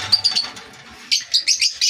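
Opaline and creamino birds in a home aviary give a run of bright, close chirps, with a softer burst of calls at first and then several sharp tweets in quick succession.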